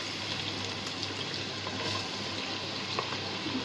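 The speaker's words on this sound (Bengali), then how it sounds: "এই যে দেখেন আমাদের পেস্টটা সুন্দর করে ভাজা ভাজা হয়ে গেছে" Spice paste for chicken biryani frying in hot oil, a steady dense sizzle and crackle over a low hum, continuous and even at moderate volume without talk.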